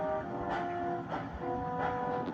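A steam engine puffs slowly forward in a mine tunnel, with soft, evenly spaced chuffs over a steady rolling rumble.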